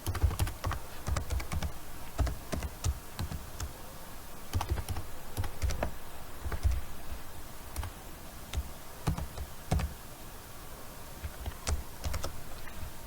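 Close computer keyboard typing while an IP address and username are entered on Windows Server 2016, a rapid irregular run of clicky keystrokes with brief pauses and occasional heavier taps, steady throughout with no voices.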